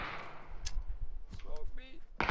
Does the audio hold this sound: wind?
no